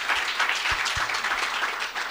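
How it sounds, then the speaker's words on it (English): Brief, steady applause from an audience at a university faculty research day session, a dense wash of clapping lasting about two seconds. "We can give her a round of applause again"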